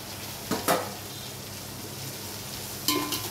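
Food frying in a small amount of oil for bagara rice, a steady close sizzle with brief louder stirring bursts, no talking.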